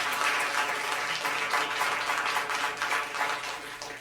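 Applause from the audience at a school district governing board meeting, a thick, continuous clapping that stays loud and even for a few seconds and eases slightly at the end.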